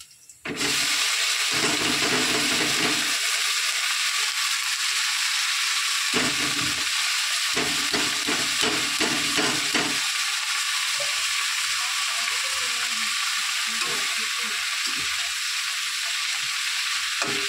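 Taro leaves added to fried onions in a pan, giving a loud, steady close sizzle throughout with repeated scraping stir strokes at an uneven pace.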